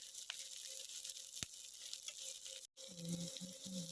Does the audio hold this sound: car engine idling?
no